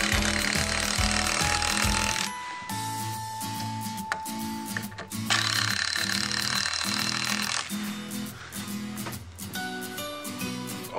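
A power drill or driver runs screws into the wooden wall of a small chicken coop, loud buzzing mechanical bursts that stop and restart in several runs, close up with no talk.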